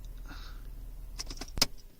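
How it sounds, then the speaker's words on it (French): Engine of a BMW E46 being switched off and the key pulled from the ignition, a faint idle hum ending with a brief jingle and click of keys near the end, no talking. "Je vais arrêter cette fois-ci le moteur et retirer la clé."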